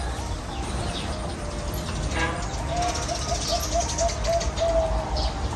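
Exotic birds sing at a bird farm in Nakhon Nayok, Thailand, with a series of faint, repeated whistled notes in the middle distance over a steady background hiss and low rumble.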